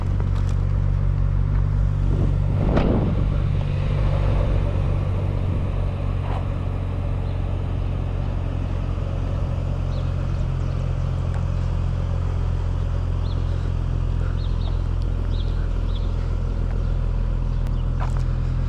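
A 2011 BMW 335i engine idles steadily, a loud close low rumble and drone that holds throughout, with a brief louder burst near the start as it fires up and faint clatter over the hum.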